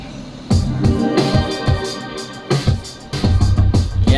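Shimmering synthesizers play together with a full band, with dense sustained layers and repeated rhythmic hits pulsing through the mix at steady volume, loud and close, with no talking.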